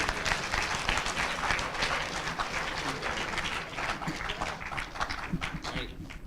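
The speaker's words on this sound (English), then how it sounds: "Give me a round of applause again." Loud, sustained applause fills a school gym-style room at an eighth-grade spelling bee, with many hands clapping steadily and evenly for the whole stretch.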